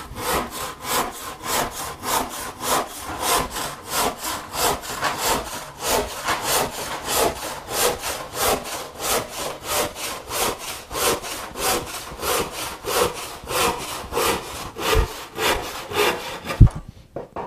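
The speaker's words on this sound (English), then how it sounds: "I have a 6 PPI crosscut saw here." Aggressive 6 PPI crosscut handsaw tearing through thick 8/4 poplar board, loud close rasping strokes in a fast steady back-and-forth rhythm of about two per second, ending with a clunk.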